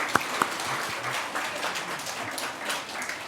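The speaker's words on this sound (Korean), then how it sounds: "축하의 박수를 해주시죠" A church congregation applauds in celebration at a Sunday worship service, a steady wash of clapping from many hands with a couple of sharper close claps near the start.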